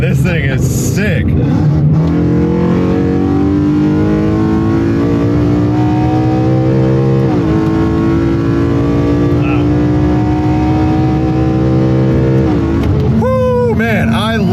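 Loud and close, an engine-swapped street car's naturally aspirated small-displacement V8 revs high, climbing steadily with a shift midway and a sharp rev flare near the end, accompanied by talking.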